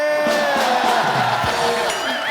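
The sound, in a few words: studio audience applause and cheering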